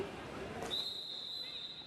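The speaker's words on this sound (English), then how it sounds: "that whistles the end of timeout" At a roller derby bout, a referee blows a single long whistle blast to end a timeout. The steady shrill note rises over a faint murmur in the hall.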